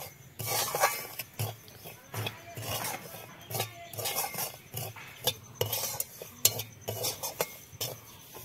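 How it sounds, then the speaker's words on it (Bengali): Semolina frying in ghee in a wok is stirred continuously, giving repeated scraping and rasping strokes of a spoon against the pan over a faint sizzle, close and fairly quiet. "ঘি দিয়ে সুজিটা ভাজলে কিন্তু খুব সুন্দর হয়।"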